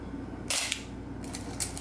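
A Canon FTb film camera fires a blank frame with its lens cap on: a sharp, close shutter snap, followed by softer clicks and a second clack as the film advance lever is worked.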